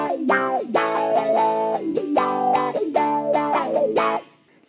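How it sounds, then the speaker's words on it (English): Electric guitar with a distorted tone played in repeated chord bursts, its pitch sweeping up and down in a vocal, wah-like way before cutting off cleanly. "The Wawa creates a sound that is best described just by listening to it."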